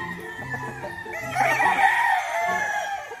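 Gamecocks and roosters on a hillside farm, with deep clucking and murmuring from several birds and one rooster crowing loudly partway through, close by with no talking.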